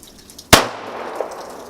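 A single sharp gunshot fired at an outdoor gun range cracks loud and close, then decays into a short, noisy ringing tail.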